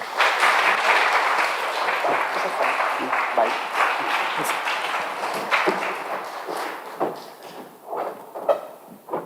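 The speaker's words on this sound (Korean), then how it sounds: "우리 박수로 우리 환영하도록 하겠습니다" A church congregation applauds to welcome a pastor to the pulpit. The clapping is dense and steady at first, then thins into scattered claps and fades toward the end.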